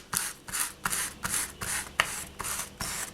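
Rhythmic rasping scratches on the back of a polymer clay piece, about nine short strokes in steady back-and-forth succession, close and fairly quiet with no talking.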